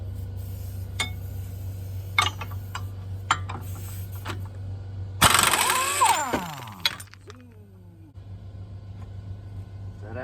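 An impact wrench at full power loosens the axle bolt on a 2003 Honda Element with a sudden loud, rattling burst that trails into clinks and a whirring spin-down, heard nearby over a low steady hum and scattered taps.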